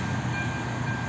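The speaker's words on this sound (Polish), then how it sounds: "To mamy pociąg" A train at a Czech railway station, heard as a steady low rumble and mechanical hum with a faint high-pitched whine, continuous and fairly close, no voices.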